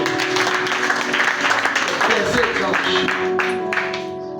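A church congregation breaks into sustained applause and cheering to acclaim the Lord during a worship service, a dense, steady wash of clapping filling the room for several seconds before easing slightly at the end.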